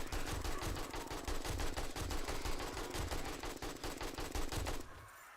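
Rapid automatic AK rifle fire in the zombie survival game 7 Days to Die, a dense unbroken stream of loud close shots lasting about five seconds before cutting off abruptly.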